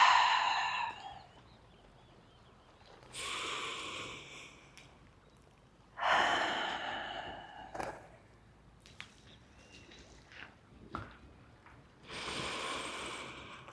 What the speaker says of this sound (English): Full deep breath in and out.